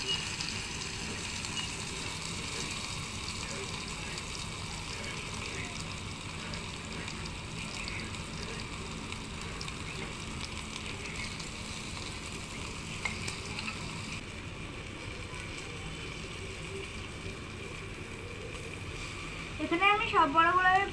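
Fish fritters wrapped with dried fish in pumpkin leaves fry in a pan, giving a steady, moderately loud sizzle that runs throughout, with a few louder clatters near the end.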